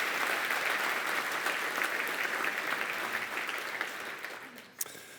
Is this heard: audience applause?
yes